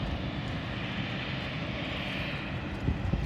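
British Airways jet taxiing after landing at London City Airport, its engines giving a steady, loud roar that holds throughout with a slight rumble near the end.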